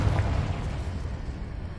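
A Confringo explosive spell blasts in the Hogwarts Legacy video game: a loud, close boom with a rumbling tail that fades over under two seconds.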